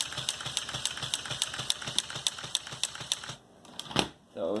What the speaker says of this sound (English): Function is controlled with the power functions medium motor. It's a windshield wiper system